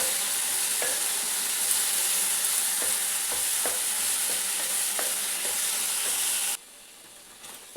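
Cooked-down tomatoes being stirred in a pan for a sea prawn curry, a steady close sizzle with scattered scraping spoon taps, ending abruptly into near quiet.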